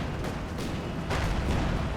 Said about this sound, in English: Grenade assault there